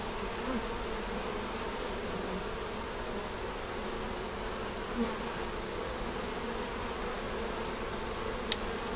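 Honey bees swarming around an open hive during an inspection, a dense continuous buzz of many insects close by, steady throughout with a few faint knocks.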